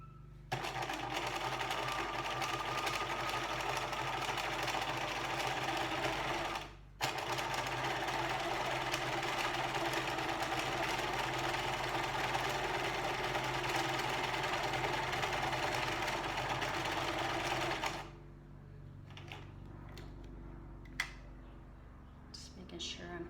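Sewing machine stitching a seam finish, a loud steady mechanical whir that runs nearly nonstop with one brief pause, then stops, leaving faint clicks and handling sounds at the end; a voice talks over it.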